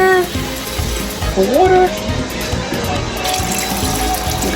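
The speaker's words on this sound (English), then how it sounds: "Now I'm going to go in with some water. Add some water." Water is poured into a pot of Spanish-style chicken stew, a steady running pour heard under a voice and kitchen background noise.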